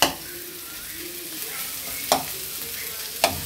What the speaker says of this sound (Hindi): इसे अच्छे से सॉटे कर लेना है